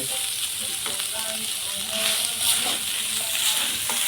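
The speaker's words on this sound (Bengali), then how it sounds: "এখানে নারকেল ভাজা হচ্ছে" Grated coconut frying in a pan in a home kitchen during puja cooking, a steady close hiss and sizzle with light crackle running throughout, fairly loud and without talk.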